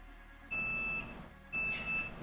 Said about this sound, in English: this alarm on my phone's going off